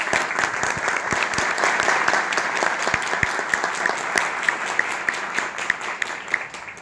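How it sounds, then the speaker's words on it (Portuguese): Audience at a workshop on people with disabilities gives a speaker a sustained round of applause, dense and even clapping from a sizeable crowd holding steady throughout. "de uma salva de palmas para o Cid Torquato."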